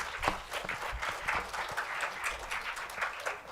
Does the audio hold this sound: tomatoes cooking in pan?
no